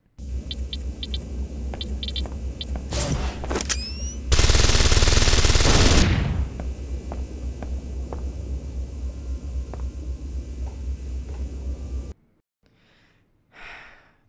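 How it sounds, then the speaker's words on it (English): Gunfire in the video game Deus Ex: Invisible War: scattered sharp shots early on, then a loud, dense burst of sustained firing lasting about two seconds, followed by steady game ambience and a brief quiet stretch near the end. "What if I shoot it? What happens if I shoot it?"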